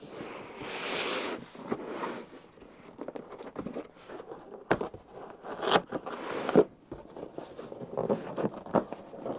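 A cardboard box holding an inexpensive gaming monitor is opened up close, with a tearing rip followed by crinkling, scraping and rustling handling sounds, no voices.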